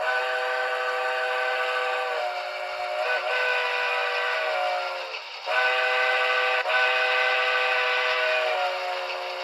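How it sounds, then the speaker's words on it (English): A model train sound decoder's default steam whistle on a BLI New Haven I-4 locomotive blows in a few long, chime-like blasts with brief breaks, loud and close over steady background hiss. "So then we have our default whistle,"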